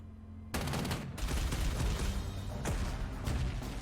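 Pioneer troops attack artillery in the wargame Panzer Corps 2, producing a loud, continuous volley of gunfire and explosions that begins abruptly and rolls on without pause.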